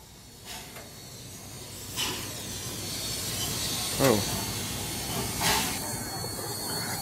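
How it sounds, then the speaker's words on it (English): A steady rumbling hiss of a steam locomotive passing in reverse, with rhythmic clanks and bursts, broadband and fairly loud, with a brief voice exclaiming once. "There's a steam locomotive coming"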